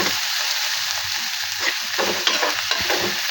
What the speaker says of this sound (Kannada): ಫ್ರೈ ಆಗ್ತಾಯಿದೆ ಈರುಳ್ಳಿ